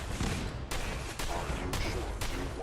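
Gunfire in the video game Fallout 4: a dense, loud run of shots with several sharp broadband cracks at irregular intervals over a continuous rumbling battle bed.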